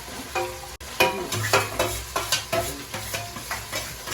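Chopped tomato and capsicum frying in a pan, a steady loud sizzle broken by repeated scraping stirs of a spatula, close up.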